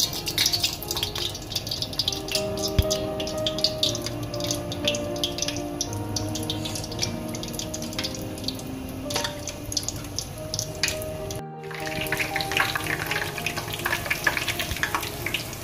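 Vegetable samosas frying in oil over a medium flame, with a steady close sizzle and scattered pops and crackles running throughout and no talk.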